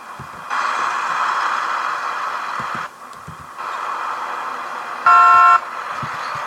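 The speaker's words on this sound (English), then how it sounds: "you're honking at me" Car horn honking in the American Truck Simulator game, several sustained blasts of varying length with a louder, brassier final toot, over a low engine rumble.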